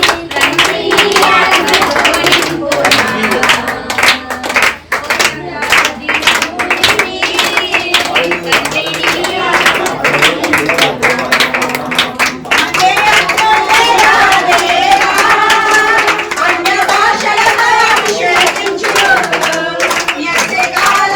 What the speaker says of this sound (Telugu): చప్పట్లు కొడుతూ అందరూ కూడా